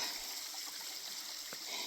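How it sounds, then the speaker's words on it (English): Steady broadband rush of a waterfall with roughly a 100-foot drop, a continuous even roar heard from nearby with no talking over it. "So this is probably the prettiest zone I can get you to on this waterfall. That is probably 100-foot drop."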